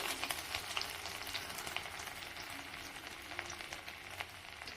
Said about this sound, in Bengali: এবার এই তেলের মধ্যে দিয়ে দেবো আমি আদা কুচি